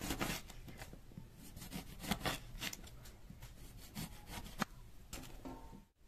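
Apples are grated on a coarse grater straight into a container, giving close, rhythmic rasping strokes in quick succession, each a short scratchy scrape, with no talking.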